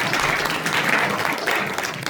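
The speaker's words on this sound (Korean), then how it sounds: "박수 한번 해주시죠." An audience claps at a book launch concert for a politics and security book, a steady, moderately loud round of applause from many hands lasting about two seconds.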